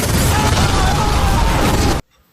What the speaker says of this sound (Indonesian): Dan beberapa detik kemudian ledakan pun terjadi.